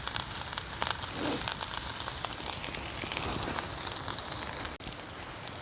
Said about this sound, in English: That's the sound of some real food cooking.